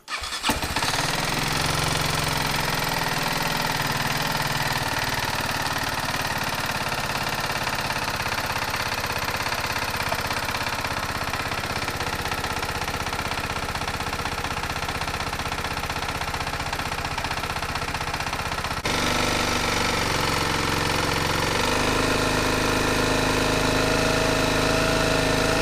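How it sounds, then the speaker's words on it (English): A BMW G310 motorcycle engine cranks and fires, then settles into a steady, close idle that holds for over twenty seconds, its tone shifting noticeably near the end, with no voices. "We're just going to start the bike up."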